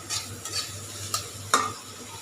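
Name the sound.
frying and stirring in oil for shing fish curry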